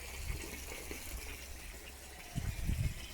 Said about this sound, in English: I filled this box up as far as I could till it was coming out of the entrance.